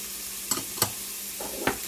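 Seasoned ground beef with onion is stirred in a hot pan, giving three or four short, sharp scraping clicks over a quiet, steady sizzle.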